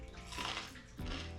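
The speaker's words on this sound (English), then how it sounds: "Oh, I know that water fountain's been going on my whole video." Indoor water fountain runs steadily in the background, a continuous soft splashing trickle with no one speaking.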